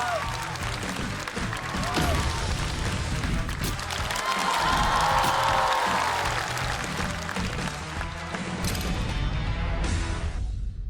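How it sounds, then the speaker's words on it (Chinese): A comedy show's studio crowd bursts into loud, sustained applause with cheering to welcome two competing teams, a thick roar of clapping that swells in the middle and fades near the end. "掌声有请！"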